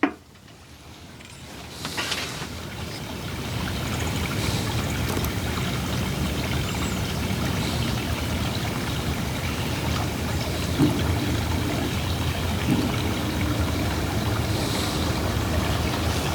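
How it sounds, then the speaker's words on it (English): Fuel pump running in a Chevrolet Trailblazer being tested for whether it will run, a steady continuous whirring hum that starts after a brief quiet moment and holds evenly throughout, with no talking. "I hear the pump pumping."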